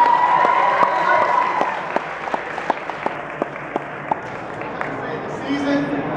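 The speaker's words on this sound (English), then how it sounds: "Give everybody a round of applause, man." A crowd applauds throughout an expo fan panel, steady clapping mixed with some voices and cheering, with a few sharper claps standing out as it gradually thins toward the end.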